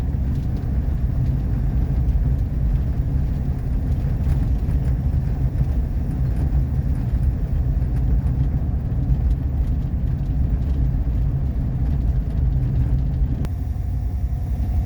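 A 1959 Ford Fairlane 500 on its first drive in 17 years, heard from inside the car: a steady, loud, low engine rumble and road drone that continues without a break.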